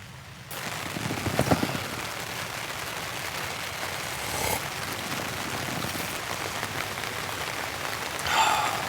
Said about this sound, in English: That nice pitter-patter of the rain.